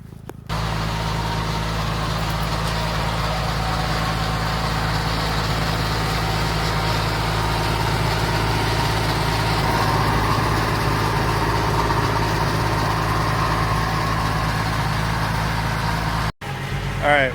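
A tractor engine pulls a bed maker across a vegetable field at 3000 ft elevation, giving a steady, loud low rumble that holds constant for most of the stretch before a brief cut near the end.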